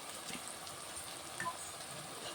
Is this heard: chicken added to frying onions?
yes